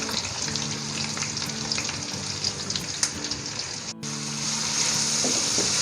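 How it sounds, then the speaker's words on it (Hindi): Chopped onions frying in a pot of hot oil for a mutton stew, giving a steady, close sizzle throughout with a faint steady hum underneath and a brief dropout near the middle. "तो ये मैंने डाल दिए प्याज।"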